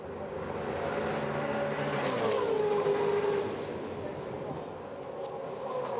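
Touring race cars lap the Gold Coast 600 street circuit in 2011, a loud, continuous engine roar rising and falling as cars pass, with a race commentator talking over it throughout.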